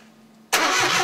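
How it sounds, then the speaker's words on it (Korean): An electric starter motor suddenly whirs into loud, steady cranking after a quiet hum, continuing without the engine catching. "스타트 모터만 돌아가는 것 같은데요?"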